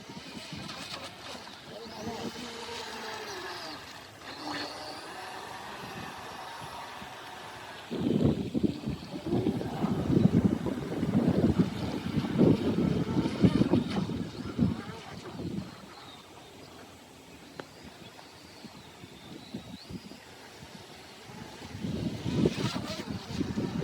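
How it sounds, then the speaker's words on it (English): Strong wind buffets the microphone in heavy, roaring gusts that come and go, with a steady rushing noise underneath. "It's pretty windy today."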